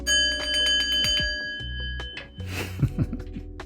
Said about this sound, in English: Every time I ring that bell, I'm thinking the neighbor's waking up like, what?